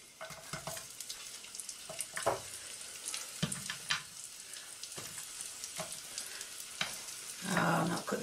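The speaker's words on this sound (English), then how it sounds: "You can hear it sizzling." Food sizzles and crackles in a hot pan, with stirring clatter and bursts of spitting oil; no voices.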